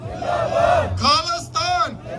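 Crowd outside the Canadian Parliament in Ottawa chanting Khalistan slogans in response to jaikaras, two loud rhythmic massed shouts following a lead voice's call.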